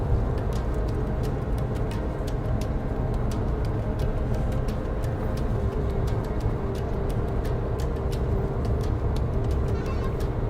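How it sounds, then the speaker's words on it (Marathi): A car cruising on an open highway with light traffic at a steady 60–70 km/h, giving a continuous loud road rumble and engine drone with no break throughout. "सध्या ट्रॅफिक कमी आहे, तेव्हा त्यामुळे गाडी मस्त चालतीये."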